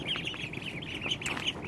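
Ducks kept in a garden bed area quack in a busy, overlapping chatter at moderate distance, a steady stream of calls with no speech.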